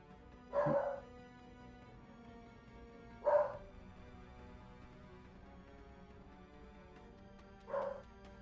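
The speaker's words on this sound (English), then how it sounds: "In the distance, you hear a dog barking." A dog barks somewhere off in the distance, three short, faint barks separated by long pauses over a low hum.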